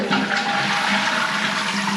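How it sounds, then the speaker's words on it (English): A toilet flushes up close, water rushing and gurgling loudly through the bowl in a continuous surge, with a faulty fill valve. "If I pull this and flush it, there's an issue with this fill valve."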